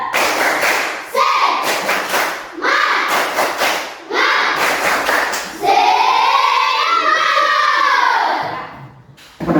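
A classroom of children performs a rhythmic clapping chant, bursts of hand claps and thumps alternating with shouted group voices, ending in a sustained loud cheer from the whole class.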